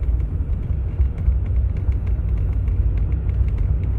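A 1989 Mercedes 300SE being driven, its engine a steady low rumble and hum from inside the cabin, continuous throughout with no voices.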